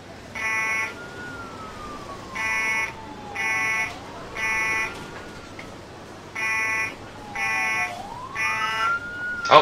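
Fire alarm tones from Emergency 4 with the Mayberry mod, a loud electronic buzzing that repeats in even bursts about a second long, with a wavering tone gliding underneath.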